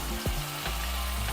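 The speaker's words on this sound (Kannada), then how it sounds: "ಸ್ವಲ್ಪ ಕಾದ್ಮೇಲೆ ಈರುಳ್ಳಿ ಹಾಕಿ ಸ್ವಲ್ಪ ಹುರ್ಕೊಳ್ಳೋಣ." Onions frying with ginger-garlic paste in hot oil in a pan, a steady close sizzle with a couple of brief scraping stirs of a spoon.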